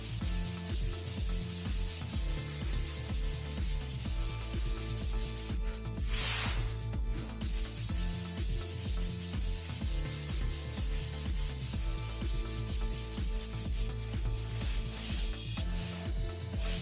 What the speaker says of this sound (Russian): А уже мелкой, вот такой губочкой, то есть это грубо сотая наждачка.